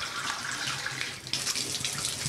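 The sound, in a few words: tap running with contaminated water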